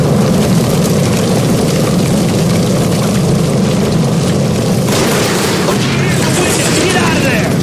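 A gas line blown apart in the crime game L.A. Noire: a loud, roaring boom fills the space and sustains as a thick rumbling blast, with a shouting voice over the din.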